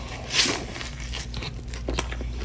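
A person takes a single crunchy bite of a hamburger, loud and close, followed by faint chewing and crackling sounds.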